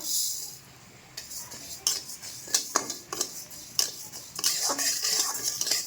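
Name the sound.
gobindobhog rice being fried and stirred in ghee in a wok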